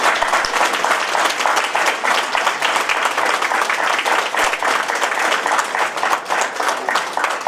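A crowd at a Daegu political town-hall event applauds to welcome former lawmaker Kim Boo-kyum, with dense, lively clapping rolling on at full strength for the entire stretch.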